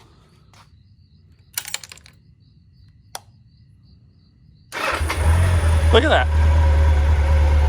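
A Honda CB750 Nighthawk motorcycle sits quiet through a few clicks and a brief voice, then its engine starts abruptly and holds a loud, close, steady idle.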